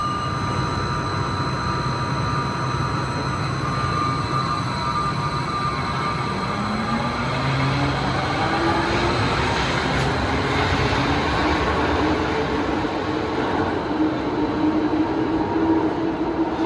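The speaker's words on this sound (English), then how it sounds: "Here comes a train towards Hoboken." A New Jersey Transit Hudson-Bergen light rail train rumbles and hisses steadily as it pulls in, with a rising whine and squealing wheels building toward the end, no talking.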